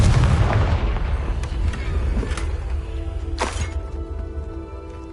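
Confringo fire spell explosions in the Hogwarts Legacy video game, a loud opening boom followed by several sharp blasts and thuds fading into a low rumble.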